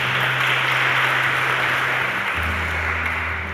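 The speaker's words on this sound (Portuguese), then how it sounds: "Se você entendeu a mensagem, pode aplaudir o Senhor." A church congregation applauds after a sermon: dense, continuous clapping from a large crowd that stays loud throughout and eases off slightly near the end.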